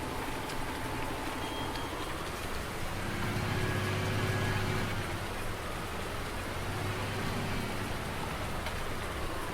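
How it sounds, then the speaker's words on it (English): Steady rain falls in the Farming Simulator 19 video game as a dense, even hiss, with a faint low engine hum of farm machinery running beneath it. "quick, it's raining"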